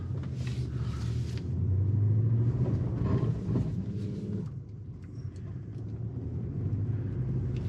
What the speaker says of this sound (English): 1 mile an hour, rear diff locked, 4-wheel drive low. It's doing its thing. It's holding second gear on its own.